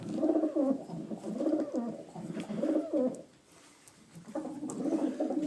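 Pigeons in a flock of about 30 birds coo in soft, throaty, rolling phrases close by, repeating in bursts with a short pause partway through.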